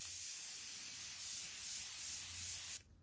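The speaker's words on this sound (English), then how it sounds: "So my handy dandy spray that is just magic" A spray bottle of label remover gives one long, close hiss lasting nearly three seconds before it stops abruptly, heard alone with no talking.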